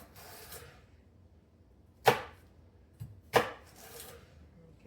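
Knife chops through celery stalks on a cutting board, two sharp crunchy strikes with a softer tap between them, close and loud against a quiet room.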